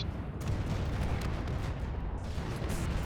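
Tortoid's cannon in AI War 2 fires at ships in a dense, continuous rumble of booming shots, layered artillery-like blasts with a few sharper cracks, steady and moderately quiet.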